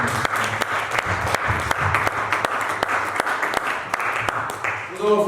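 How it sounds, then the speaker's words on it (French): A church congregation claps and applauds for Jesus, a dense continuous patter of many hands with sharp individual claps standing out, voices mixed in beneath. "On acclame Jésus."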